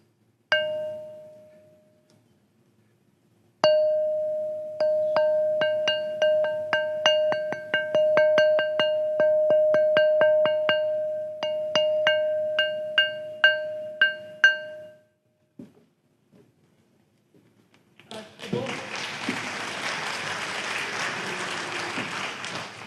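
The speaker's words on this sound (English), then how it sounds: "this is what I mean by stones ring like bells" Carved stone in ancient South African ruins rings like a bell when struck. Sharp hits come in a quick, uneven series, each one leaving a clear, sustained metallic tone. After a pause, a burst of rougher noise follows.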